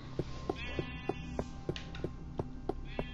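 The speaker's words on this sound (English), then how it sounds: "I'm sorry, Sheepy, but you have to die. I have to get your wool" Sheep bleating in a video game, a short series of regular bleats repeating about every third of a second over a steady low game hum, with no talk.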